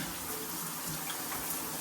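Water streams steadily from a shower head in a bathroom, a soft even hiss of spray running without a break, fairly quiet and alone.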